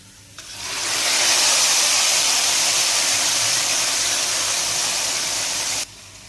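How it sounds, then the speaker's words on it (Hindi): A loud, steady hiss bursts in and holds for several seconds as hot oil tempering with golden garlic is poured onto pakora kadhi, then cuts off abruptly. "लहसुन को लाइट सा गोल्डन करेंगे और लगा देंगे कड़ी के ऊपर तड़का"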